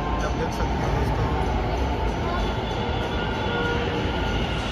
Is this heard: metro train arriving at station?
yes